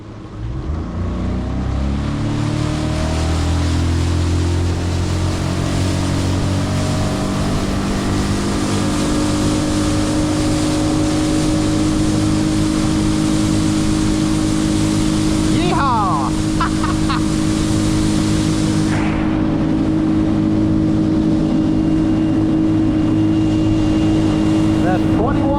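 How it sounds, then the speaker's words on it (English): A Tracker Panfish 17 boat with its outboard motor held at full throttle on a lake, a loud sustained engine drone that climbs in pitch early and then holds steady, with wind and water rush. "You're supposed to run it for about a minute or so on full throttle and then back off"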